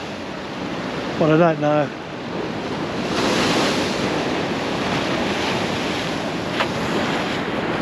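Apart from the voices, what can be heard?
ocean waves crashing on rocks at Ben Buckler, Bondi Beach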